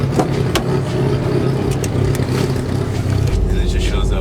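Loud, steady engine rumble of a 650 WHP Subaru STI with rear seat delete, heard from inside the cabin as it pulls away, a deep low drone holding throughout before the note drops slightly near the end.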